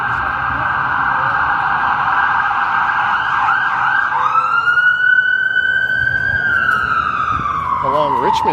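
Emergency vehicle sirens wailing on a Toronto city street, a loud steady tone that bends into overlapping rising and falling wails as more sirens join, close and continuous with traffic underneath.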